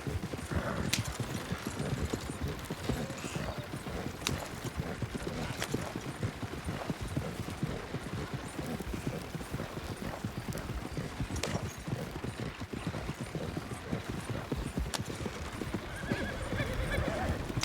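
Horses galloping in a WildRP Red Dead game session, a dense, continuous clatter of hooves at a fast rhythm, with a few sharp cracks and a faint whinny over the steady pounding.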